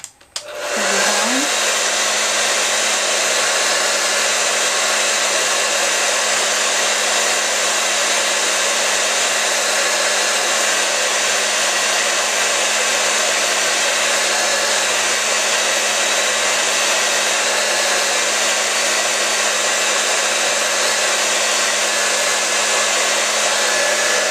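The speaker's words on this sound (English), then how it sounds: "I might just zap these with a bit of the hairdryer" A hair dryer switches on and blows over drying paint with a loud, steady whooshing hum that continues unchanged for a long stretch, close by and alone.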